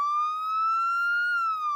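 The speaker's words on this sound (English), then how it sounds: "Emergency vehicles such as fire engines, ambulances, and police cars all have a siren that sounds like this" A single clean siren tone holds steady and loud, rising and falling only slightly in pitch, with no other sounds around it.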